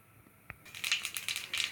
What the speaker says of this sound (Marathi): आता मोहरी आपली तडतडायला सुरू झालेली आहे